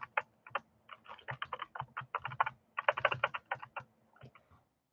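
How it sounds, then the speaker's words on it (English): Quick, uneven clatter of keys on a computer keyboard, a steady burst of close clicks at fairly low level with no voices. "I'll type it out for you"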